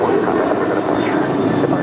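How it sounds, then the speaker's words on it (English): A United Airlines Boeing 737-900ER departing, a loud, dense, continuous jet roar filling the short stretch with no break. "That is United Airlines 1621 departing to Orlando. It's a 737-900ER."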